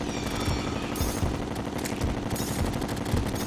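Rapid bullet fire from a weapon in Terraria, a dense stream of repeated shots with steady rhythm over a constant electronic background, loud and continuous throughout.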